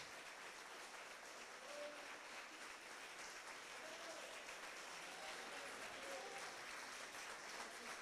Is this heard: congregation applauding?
yes